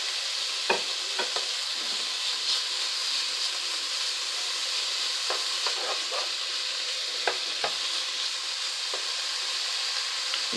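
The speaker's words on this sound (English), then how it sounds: "I'm going to add in that chopped up bacon that I cut up. And add that right in here." Chopped bacon frying in a pot for Southern-style collard greens gives a steady, close sizzle and crackle. Sharp pops and spoon-on-pot clinks break through now and then.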